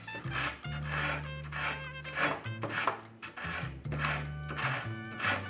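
Longboard grip tape being rubbed and rasped with an all-purpose tool, a series of close, scratchy back-and-forth strokes in an uneven rhythm with brief pauses between passes.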